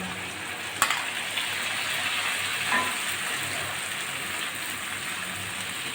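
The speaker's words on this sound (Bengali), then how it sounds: "এখন আমি আলুর ভিতর দিয়ে একটু কষিয়ে নেব মশলাটা" Ground paste of black cumin, chili and ginger fries with potatoes in oil for a tilapia curry. It makes a continuous rain-like sizzle, and an early sharp clink comes from a utensil against the pan.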